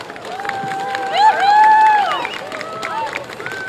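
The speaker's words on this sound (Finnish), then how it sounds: "me aplodit tässä välissä." Crowd at the 2019 Lahti Pride parade cheering and clapping, with shouts and whoops swelling loudest in the middle before easing back into a steady background roar.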